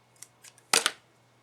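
Scissors snip a small piece off a handmade card, giving two quick crisp cuts after a few soft handling taps, close and clear in a quiet room with a faint steady hum.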